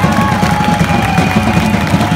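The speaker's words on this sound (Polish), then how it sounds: "Brawa! Brawa dla Grzegorza Turnała!" A large outdoor crowd at a protest rally applauds and cheers for Grzegorz Turnał, a loud, continuous wash of clapping and voices with no gaps.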